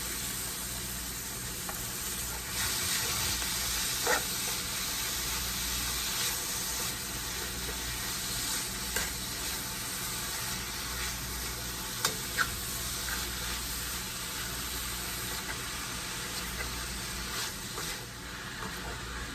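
Meat sizzles steadily in a pan with vegetables for Philly cheese steaks, a loud continuous frying hiss close up, broken now and then by the scrape and clack of a utensil stirring, with no talking.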